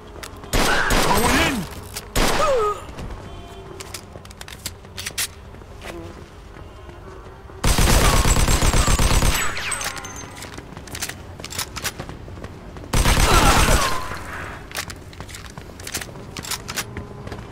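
Gunfire in a Mafia II Definitive Edition shootout: loud sustained bursts of automatic fire come in three clusters, with scattered single shots between them and no voices in the gaps.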